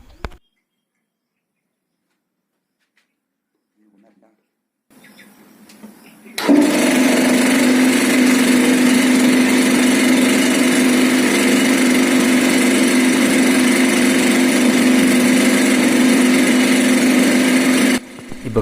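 An electric air compressor motor, newly fitted, starts up after a few faint clicks. It settles into a loud, steady hum that runs unbroken for about twelve seconds and then cuts off.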